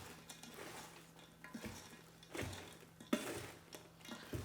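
Bread stuffing and vegetables being tossed in a Ninja Foodi pot, giving soft scraping and clinking of a utensil against the pot in quiet, irregular strokes.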